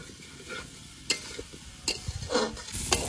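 Taro pieces frying in a pan with turmeric and salt, a close, steady sizzle broken by several scraping stirs of a spoon against the pan.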